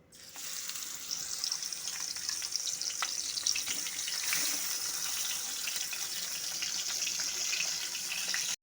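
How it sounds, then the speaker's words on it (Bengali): Fish heads fry in hot mustard oil in a wok with a loud, continuous, close sizzling hiss that holds steady throughout, with no speech. "তেলটা গরম হয়ে গেছে, এখন আমি এর মধ্যে মাছের মাথাগুলো দিয়ে দেব।"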